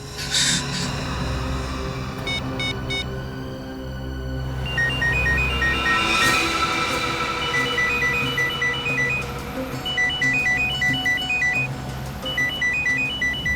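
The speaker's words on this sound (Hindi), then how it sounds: "फोन की घंटी सुनाई दे रही है ना?" A phone rings with a repeating electronic melody of short bright tones, set against a noisy, busy background, in a Hindi crime TV drama scene at a cave entrance.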